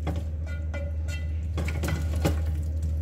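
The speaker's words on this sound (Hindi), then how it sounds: "अब इसको डाल के थोड़ा सा भूनेंगे।" Ingredients tipped into a hot pan for aloo matar, a few clattering knocks and scrapes of metal against the cookware over a steady low hum, close and moderately loud.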